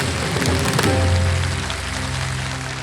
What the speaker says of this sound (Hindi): तालियों के साथ इनका हम स्वागत करते हैं